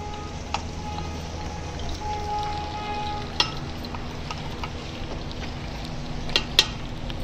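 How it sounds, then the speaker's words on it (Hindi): Ginger, garlic and coriander paste hisses and sizzles steadily in hot ghee, a soft continuous frying crackle with a few sharp pops and spoon clinks, nearby and alone. "घी हमारा जो है गर्म हो चुका है। अभी जो हम ये डाल रहे हैं अदरक, लहसुन और धनिया का पेस्ट।"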